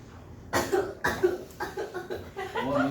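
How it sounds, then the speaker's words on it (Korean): A few sharp coughs in quick succession, fairly close and alone, followed by a short throat-clearing sound. "대답이 기침이니?"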